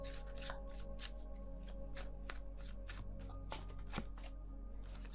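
Tarot cards are shuffled in a quick, steady riffling patter of soft papery slaps, close and fairly quiet, with no talking.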